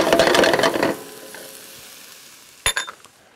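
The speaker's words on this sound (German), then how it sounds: "Die Zwiebel ich mit anrösten und den Speck." Onions and bacon browning in a hot pan, a loud close sizzle with stirring for about a second that fades to a low simmer, then a sharp clatter of a utensil against the pan.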